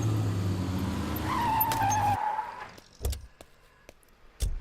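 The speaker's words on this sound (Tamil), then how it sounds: "ஏயா உன் இஷ்டத்துக்கு நடு ரோட்ல வண்டி நிறுத்துறியா?" A car halts in the middle of a road: engine drone and a squealing tire skid that slides down in pitch cut off abruptly, followed by a few sharp thuds in the quiet after.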